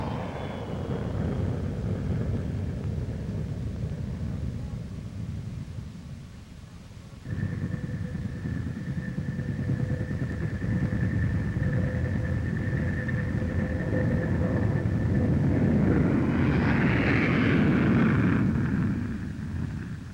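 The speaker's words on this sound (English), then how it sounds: "the 250-passenger DC-861 made an appearance as the largest commercial jet now in service" A Douglas DC-8-61 jet airliner passes at the 1967 Paris Air Show, its broad engine roar steady and loud, with a whining tone joining midway and swelling toward the end as it comes closest.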